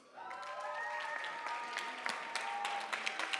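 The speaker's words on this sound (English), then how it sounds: "Congratulations, a huge round of applause, ladies and gentlemen." Audience applause at a youth business awards ceremony in KwaZulu-Natal, greeting an award winner; steady clapping from a crowd, moderately distant and fairly soft, with a faint tonal whine running underneath.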